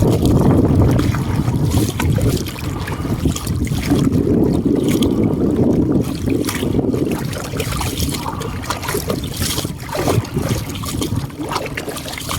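A strong headwind roars steadily and buffets the microphone, mixed with splashing water around a small boat, loud and continuous throughout.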